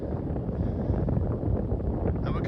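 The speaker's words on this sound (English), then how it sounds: "It's already kind of windy up here." Steady wind buffeting the microphone high on a mountain hiking trail in the Rockies, a broad continuous rumble with gusty swells and no voices.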